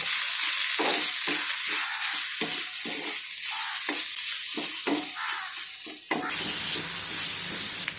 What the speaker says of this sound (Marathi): आता हे सर्व आपण मिक्स करून घेऊया